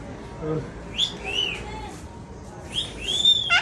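Two rising-and-falling whistles, a wolf-whistle style call repeated twice, close by over soft background noise and faint voices.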